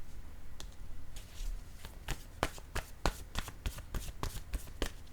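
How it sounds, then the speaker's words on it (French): A card laid down during a tarot-style card reading, heard as a run of sharp, close papery snaps and flicks, irregular at first and then quicker and steadier, with no voice. "Je vais déposer, comme je le mentionnais tantôt, une carte mot sur la femme."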